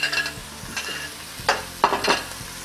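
Equal parts ground beef and ground pork sizzle in a pan for Bolognese sauce, with a few sharp scraping clacks of stirring over the frying, close up and without speech.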